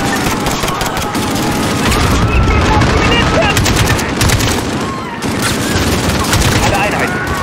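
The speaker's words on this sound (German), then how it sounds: "Sie feuern mit Raketen vom Dach des Zentrumgebäudes!" Rockets are fired from the rooftop of a central building in Call of Duty Modern Warfare, heard as a dense, continuous barrage of loud gunfire and booms. Shouting voices come through over the shooting.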